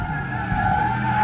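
An Aston Martin Valkyrie drifts on a race circuit, a brief sustained tyre squeal with a steady tonal whine over low engine rumble, loud and close.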